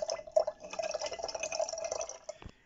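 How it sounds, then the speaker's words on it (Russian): Scalded, lightly rinsed rosehips are tipped into a liter jar holding honey, giving a close, quick patter of small tumbling impacts and wet sounds that ends with a short knock. "Шиповник у нас ошпарен под кипяточком. Так, слегка он промыт. Ну и туда же его высыпаем."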